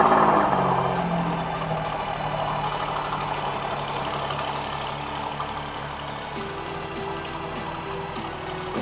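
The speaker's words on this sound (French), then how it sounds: "On va démarrer la voiture et je vais vous faire écouter ce bruit qui est extraordinaire" An Alfa Romeo car engine running at a low steady idle beside a fuel pump at a petrol station, a constant deep rumble that settles slightly after the first seconds.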